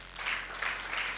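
An audience claps briefly to welcome the next speaker at a youth forum, a short faint patter of applause with a few rising swells.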